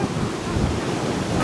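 Swollen floodwater after several days of rain rushes loud and continuous past a collapsed village bridge, a broad, steady roar close by with no voices.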